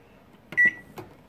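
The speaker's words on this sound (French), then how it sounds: "Alors je vais donc le mettre au micro-ondes." A microwave oven, about to run at 800 watts to melt chocolate and butter, gives a sharp beep as its buttons are pressed, amid a few clunks from the door and a covering dome, close by.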